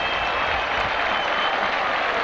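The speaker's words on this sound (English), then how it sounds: "The crowd enjoyed that one." A rugby league crowd at a Warrington versus Barrow match applauding a fine run, a dense, sustained wash of clapping from a large stadium audience, steady and fairly loud.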